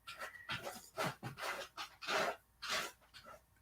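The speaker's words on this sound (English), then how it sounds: "That was the dog." A dog pants rapidly and close by, quick rhythmic breaths with occasional soft whimpery tones.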